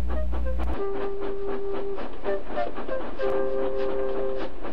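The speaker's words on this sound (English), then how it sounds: "Thomas puffed sadly away." A cartoon steam tank engine puffs away in steady rhythmic chuffs, joined by a few whistle-like tones over rolling rail noise, moderately loud and close.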